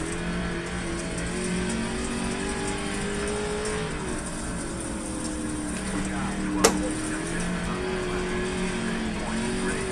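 A late model race car engine drones steadily in the iRacing sim, a continuous mid-pitched hum with slight pitch sweeps as it shifts through corners, one brief sharp click, and faint talk underneath.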